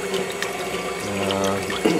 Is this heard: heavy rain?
no